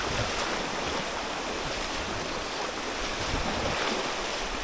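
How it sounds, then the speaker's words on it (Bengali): A strong floodwater current pours over the Akhaura–Agartala road, a dense, unbroken roar of rushing water, loud and near, with no talking. "আখাউড়া আগরতলা সড়কে কি পরিমাণ পানি যাচ্ছে"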